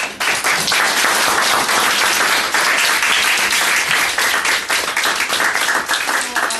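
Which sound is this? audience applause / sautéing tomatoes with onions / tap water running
audience applause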